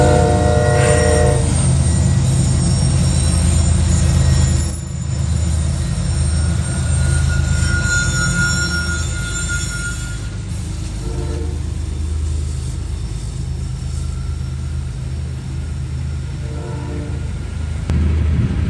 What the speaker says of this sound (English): Loaded grain train G641 is seen heading through the snow in Russellvania. You can tell it's uphill by how loud the Gevos are struggling to move.